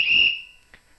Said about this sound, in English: there's the whistle for halftime now